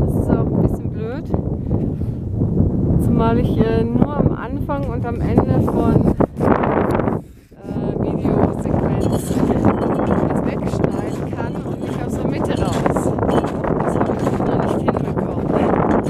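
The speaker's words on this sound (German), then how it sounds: "Ja, es ist sehr windig, das ist auch ein bisschen blöd." Strong wind roars across the microphone on a mountain during a solo ski tour toward the Galehorn, a loud continuous buffeting under a person talking throughout, with a brief lull midway.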